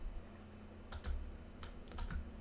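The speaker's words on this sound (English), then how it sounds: "And my keyboard keeps on stopping working until I push it again" Computer keyboard keys are tapped in two quick clusters of clicks, quiet and close, over a low steady hum while playing Minecraft.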